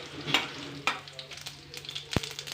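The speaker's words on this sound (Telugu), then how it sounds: "కరివేపాకు ఆవాలు జీలకర్ర వేసి ఒక్క నిమిషం ఫ్రై చేయాలండి" Curry leaves, mustard seeds and cumin frying in a spoonful of hot oil give a faint, steady crackle with a few sharp pops and spatters, while a soft, sparse sizzle carries on underneath.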